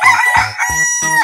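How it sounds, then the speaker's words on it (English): A cartoon rooster crows loudly and close, a bright cock-a-doodle-doo broken into four quick, rhythmic syllables and heard on its own. "Chicken."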